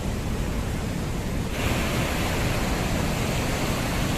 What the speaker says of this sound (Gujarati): ખૂબ મોટા પ્રમાણમાં પાણી પડી રહ્યું છે